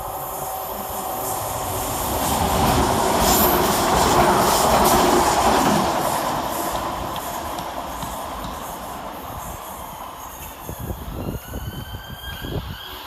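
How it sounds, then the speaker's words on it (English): A London Northwestern class 350 electric train comes around a curve, a rising roar of wheels and motors that peaks and fades, with squealing flanges and rhythmic wheel clatter toward the end. "Coming around the corner for London Northwestern is 350-234, working 2K52 from Birmingham New Street to Crewe."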